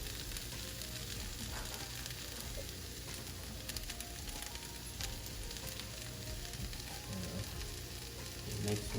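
Spring onion fries in a hot pan with chili flakes, a steady, even sizzle throughout with faint stirring scrapes, fairly quiet and close.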